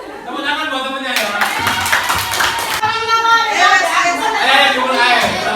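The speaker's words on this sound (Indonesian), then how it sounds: "Tepuk tangan buat temennya ya." Classroom of students clapping for a classmate, a burst of close, mixed hand claps under children's voices and teacher talk.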